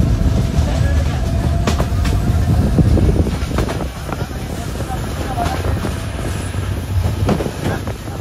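Chitra Express train running on rails in Bangladesh, a loud continuous rumble with rhythmic clickety-clack and wind buffeting, heard from on board with no talking.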